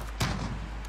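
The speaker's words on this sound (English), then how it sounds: "I hear a shotgun" A single shotgun blast from a first-person shooter game rings out sharply, with a brief boom that decays into a low rumble and quiet background noise.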